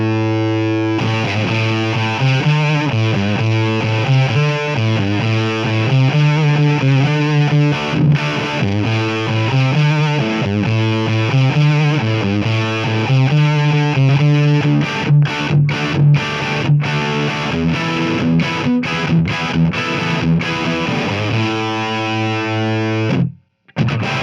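Electric guitar played through a JHS FireFly Fuzz pedal with the bias fully counterclockwise and fuzz set low, a loud sustained distorted riff with repeated chords running steadily, then cut off abruptly near the end.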